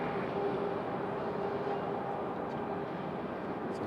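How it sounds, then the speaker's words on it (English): A United Airlines Boeing 737-900 arriving at Raleigh Durham airport from Chicago, heard as a steady, broad jet roar that holds at an even level throughout, distant and continuous with no talking. "United Airlines. 1502 coming in from Chicago on a 737-900."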